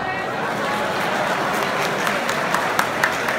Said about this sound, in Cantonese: 俾啲掌聲自己啦。